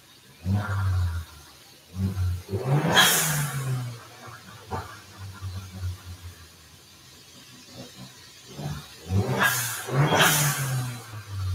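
A turbocharged Dodge Dart engine on a dyno revs hard in repeated bursts, roaring up and falling back to a rumbling idle between pulls, loud and close.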